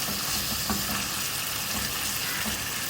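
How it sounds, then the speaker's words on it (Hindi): Beef keema is frying with garlic and ginger in a pan and being stirred, giving a loud, continuous close sizzle with soft scraping under it and no speech. "कीमे को इसके साथ भूनना है"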